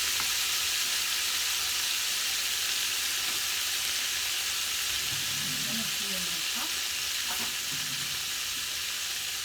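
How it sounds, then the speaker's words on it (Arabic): Seafood sautéing in a pan for Spanish-style paella, a steady broadband sizzle with faint stirring scrapes near the middle, close and continuous throughout. "هما غادي نشحرهم بوحدهم"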